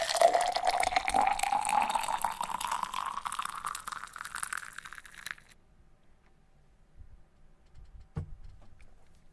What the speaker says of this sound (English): The sound of water is lovely.